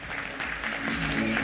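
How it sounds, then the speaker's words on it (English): Audience applause at a live business talk as a presenter is called to the stage: a steady wash of clapping from a crowd, fairly loud and sustained, growing slightly fuller toward the end. "A huge round of applause."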